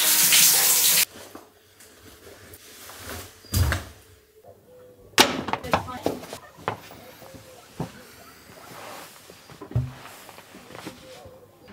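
Shower water runs in a loud, steady rush for about a second, then stops, followed by scattered knocks, clatter and a door-like thud in a bathroom.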